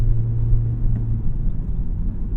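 A 2006 Acura RSX Type S rolling over a rough patch of road, heard from inside as a steady low rumble of tires and engine, even and unbroken with no voices.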